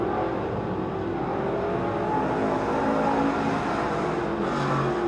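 Hobby stock race cars running a fall nationals main event on an oval track, their engines a continuous loud roar of several cars at once, heard from trackside with no talk.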